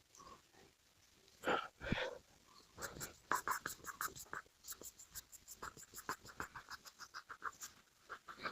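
A pencil sketches a hill scenery drawing on paper, with rhythmic scratchy strokes that speed into quick repeated hatching, close and fairly quiet, plus a few brief breathy sounds.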